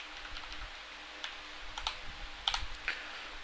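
Soft, quick keystrokes on a computer keyboard while a live expression is typed into browser developer tools for JavaScript debugging, with scattered clicks and short bursts of taps close by and no talk over them.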